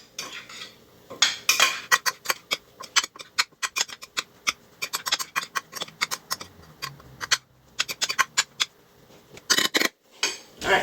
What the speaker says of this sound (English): again, mixing, mixing, mixing.